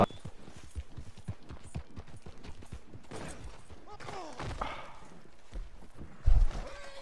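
Horse hooves clip-clop in the Red Dead Redemption 2 video game, a quick regular trotting rhythm with thuds and other game sounds mixed in, and a louder thump near the end.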